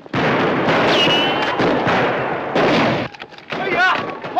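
A battle in a 1950 western film, with loud, sharp gunshots cracking in quick bursts over shouting voices and commotion, ending in a short lull.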